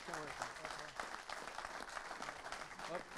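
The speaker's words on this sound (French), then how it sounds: "Et vos applaudissements." A crowd at a 24 Hours of Le Mans event applauds the drivers, a continuous wash of clapping heard under a voice talking throughout.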